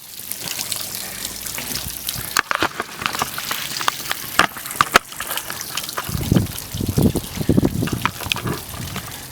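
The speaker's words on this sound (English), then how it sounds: "I'm flushing all the lines out, nice and clean" Water flushes through the lines of a Fast Foam unit, a loud continuous gushing and trickling with splashy bursts and lower gurgles near the end.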